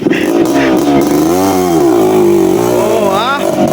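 Trail motorcycle engine revving and droning steadily at close range, its pitch rising and falling through short bursts, with people talking over it.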